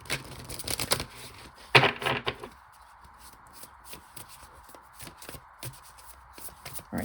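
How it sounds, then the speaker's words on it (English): Tarot cards being shuffled by hand, with dense riffling bursts in the first few seconds, then softer intermittent card rustles and taps at close range. "I am shuffling"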